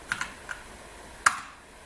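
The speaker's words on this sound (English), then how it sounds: "and type the password again" Keys on a computer keyboard tap out a password: a few light, separate clicks followed by one sharper keystroke, close up and quiet, with no talking.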